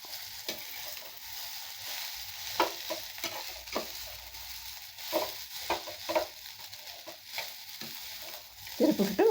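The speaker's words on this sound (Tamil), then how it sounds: "போட்டுட்டு நல்லா இப்படி திருப்பி விடணுங்க" Poha (flattened rice) is stirred in a frying pan with a soft sizzle underneath, punctuated by intermittent scraping strokes of the spoon, quiet and close.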